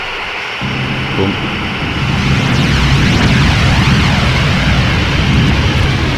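A simulated airliner crash-landing in Microsoft Flight Simulator X: a loud, sustained roaring blast that swells after a brief lower rumble and fills the rest of the clip with dense, rumbling noise.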